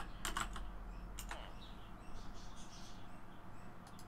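Quick bursts of computer keyboard typing come in short clusters of clicks, fairly faint and close, with brief pauses between and soft chirping birds in the background.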